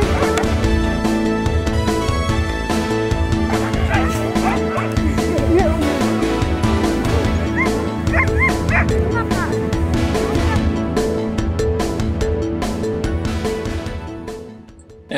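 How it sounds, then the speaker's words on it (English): Sled dog teams in Greenland barking and yipping as they set off into the wilderness, a dense, continuous chorus of many dogs close by, loud throughout and fading slightly at the end. "22 teams of dogs heading off into the wilderness."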